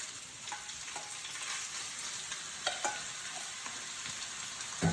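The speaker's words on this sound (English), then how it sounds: "And then add in your ground sausage." Ground sausage frying in shimmering olive oil in a pan, a steady close sizzle with occasional soft clicks and scrapes as it is stirred and broken apart, no voices.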